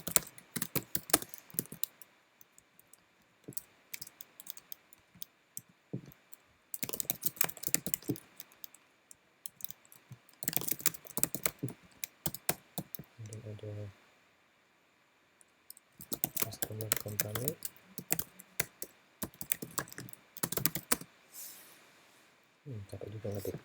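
Computer keyboard typing in bursts of rapid clicks with pauses between, entering customer data into a checkout form for an online shop, close and fairly quiet, with a few soft low thumps.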